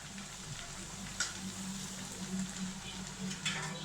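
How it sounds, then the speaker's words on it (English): Maggi cutlets frying in hot oil, a soft, steady crackling sizzle at low level with a few sharper pops, no talking. "and let it fry"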